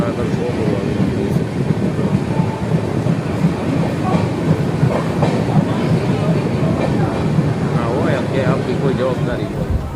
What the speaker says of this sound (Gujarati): આ ટ્રેનની અંદર આપણે જે જનરલ કોચની અંદર સફર કરી રહ્યા છીએ